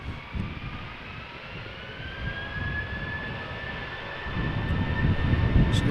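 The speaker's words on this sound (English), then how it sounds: "8355, A320 going to Bilbao in the north of Spain." A Vueling Airbus A320 airliner at Amsterdam Schiphol, a steady jet rumble with a faint rising engine whine that grows somewhat louder toward the end, heard alone at moderate distance.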